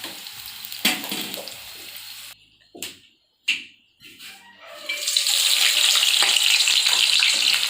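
Onions frying in hot oil for chicken biryani: a few clatters and short gaps, then a loud, steady sizzling hiss that fills the second half, close up and without talk.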